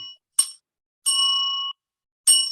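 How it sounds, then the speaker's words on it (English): A small hand bell rings three times during an online session, each strike a bright metallic ding, the middle one sustaining longest before being cut off, separated by silence. "can everyone hear when I ring the bell?"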